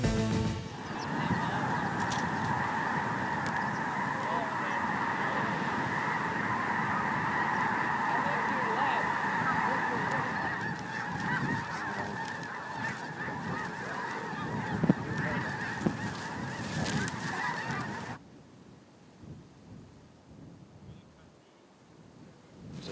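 A large mixed flock of specklebellies, snow geese and Canada geese honks continuously during a Kansas late-season hunt, a dense chorus of overlapping calls with wind noise, ending abruptly into quieter wind near the end.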